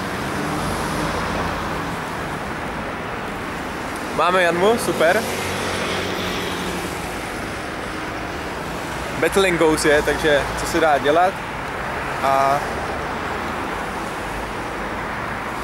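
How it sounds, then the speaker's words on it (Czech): Cars roll past on a nearby road in a constant broadband roar that persists throughout, while someone talks intermittently over the traffic. "Dost tady jezdí auta, takže teďka nepůjdu chvilku slyšet."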